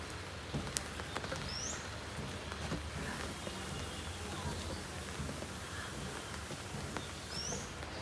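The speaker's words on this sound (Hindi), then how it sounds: "तो ऐसे अभी बारिश पड़ रही है" Steady rain falling outside in the evening, a continuous even hiss of drops with an occasional faint bird chirp, moderately loud and unbroken throughout.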